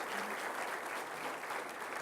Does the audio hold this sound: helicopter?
no